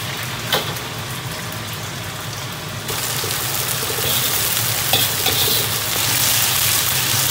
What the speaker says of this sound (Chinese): 香料下锅炒香